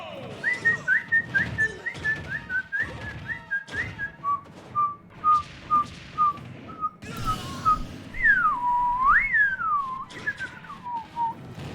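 A person whistles a tune in short, repeated notes, then in longer sliding phrases that rise and fall, heard close amid intermittent thumps and clatter.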